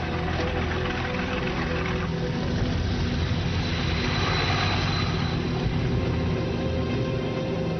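Second World War German warplanes taking off from airfields in occupied France, a continuous heavy engine roar and rushing drone that swells slightly midway, with no talking.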